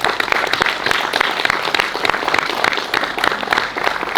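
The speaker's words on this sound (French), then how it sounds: "c'est que les applaudissements aillent vers vous" Audience applause at the opening of a painting exhibition in a village hall, steady dense clapping from a crowd, close and sustained throughout with no break.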